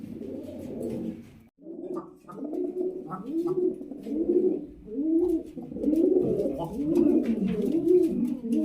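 Several pigeons coo nearby in a steady, overlapping run of soft, throaty, rolling calls, rising and falling in repeated phrases.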